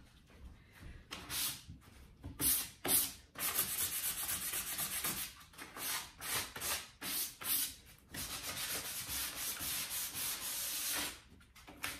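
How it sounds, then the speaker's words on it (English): Rhythmic scraping of sandpaper on wooden furniture, strokes back and forth in uneven bursts, close and fairly loud, with brief pauses between passes. "I'm all finished with my sanding"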